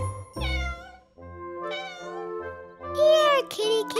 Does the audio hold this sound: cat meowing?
yes